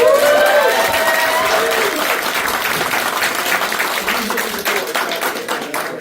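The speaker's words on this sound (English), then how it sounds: "Everybody give a round of applause for Russell." A horror convention panel audience gives a sustained round of applause for a guest, dense clapping that fades slightly over six seconds, with a few cheers and voices mixed in.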